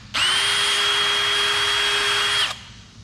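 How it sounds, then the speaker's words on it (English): A power drill enlarges bolt holes for a ZR1 spoiler install on a C6 Corvette Grand Sport, running as one steady, loud, high whine for about two and a half seconds before stopping. "I do think I'm gonna have to drill them a little bigger than this."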